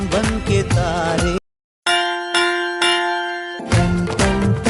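A song with a clanging school bell struck several times in a steady rhythm, its ringing tones sustained between strikes, set between loud musical passages after a brief silent gap.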